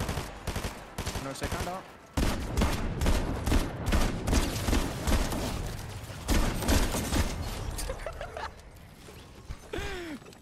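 Rapid bursts of gunfire in Fortnite Chapter 5, dense and loud, coming in repeated volleys over most of the stretch, with a player talking briefly between shots.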